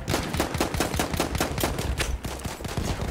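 Rapid gunfire from a P08 pistol in Battlefield 1 multiplayer, a dense run of sharp loud shots in quick succession with layered battle noise, no voices.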